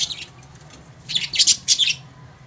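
Budgerigars, small Australian parrots, chirp in a quick cluster of high, bright tweets. A faint call comes first, then a louder burst of several chirps at close range.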